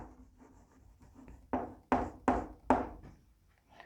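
Chalk or marker writing on a board during a maths lesson starts with soft scratching, then four sharp taps and strokes land about a third of a second apart, close and distinct.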